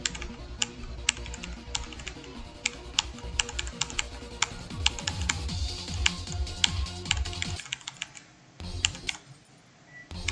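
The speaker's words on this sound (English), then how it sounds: "I don't know if I should be like clicking faster, or if I should be clicking slower." Rapid, fairly loud clicking from a mouse or keys during a computer game comes in a fast, uneven stream of sharp taps over a low hum, thinning out near the end.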